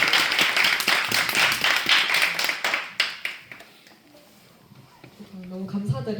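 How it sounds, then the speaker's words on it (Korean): A church audience claps loudly at the start of a Q&A session, dense applause for about three seconds that fades out before a voice begins speaking. "우선 시작하기 앞서서 박수로 한번 시작을 해보겠습니다"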